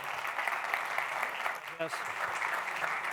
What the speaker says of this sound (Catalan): Un fort aplaudiment, Josep